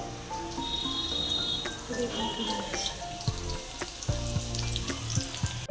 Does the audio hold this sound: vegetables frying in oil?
yes